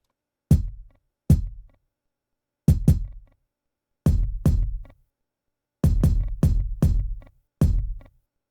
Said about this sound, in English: Here we have a kick drum. And what I have here is a compressor setup.